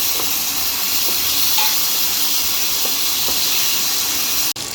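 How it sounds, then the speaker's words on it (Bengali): Prawns hit hot oil in a wok and give a loud, continuous sizzling hiss that holds steady throughout and cuts out abruptly for a moment near the end. "এইবার আমি চিংড়ি মাছটা দিয়ে দিলাম।"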